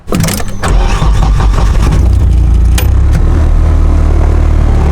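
A turbocharged Nissan S14 fires up and settles into a loud, steady running note, with a burst of cranking and clatter at the start before the engine holds a continuous rumble close by.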